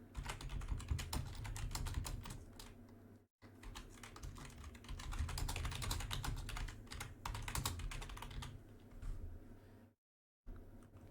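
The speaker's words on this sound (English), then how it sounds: "let's type in" Rapid clicking of keystrokes on a computer keyboard, typed in quick bursts close up with two brief pauses, no voices.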